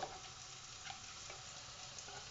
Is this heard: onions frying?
yes